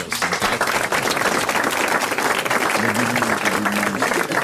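Studio audience applause on a French radio-television quiz show, dense and steady for several seconds, loud and close with no voices over it.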